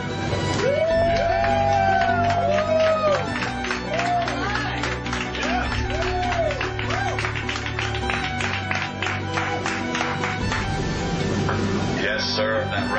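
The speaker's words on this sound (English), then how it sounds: "Yes, sir, that round of applause was just for you." Subway passengers on a Toronto train breaking into a sustained round of applause and cheering inside the carriage, dense clapping throughout with voices mixed in.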